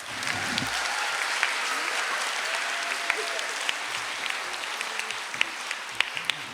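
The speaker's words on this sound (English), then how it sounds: "Let's give them a round of applause" Steady audience applause at an elementary school moving-up ceremony for fifth grade teachers, a continuous wash of clapping with a few sharper claps standing out near the end.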